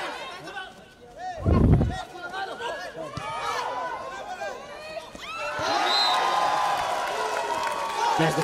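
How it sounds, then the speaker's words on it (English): Volleyball crowd at the North East Games in Nagaland erupts in cheering and chatter after a point, a sharp burst near the start followed by sustained loud crowd noise and whistling in a busy indoor hall. "There's the cheer from the crowd."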